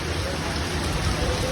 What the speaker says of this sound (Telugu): చాలా ఘోరంగా పడుతుంది వర్షం.